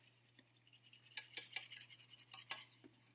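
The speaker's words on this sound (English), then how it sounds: "add all of the beef stock and whisk" Beef stock being whisked into a pan, with rapid rhythmic metallic scraping and clinking of a whisk against the pan, close and fairly quiet, growing busier midway.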